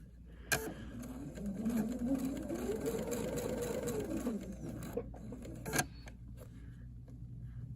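A sewing machine stitching through whisper light fabric, a steady close mechanical whir that runs without a break, with two sharp clicks, one near the start and one near the end.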